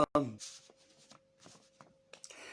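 Tarot cards being cut during a live French reading session, giving quick soft shuffling and riffling bursts at the start and again near the end, with quiet gaps and a steady faint hum between them.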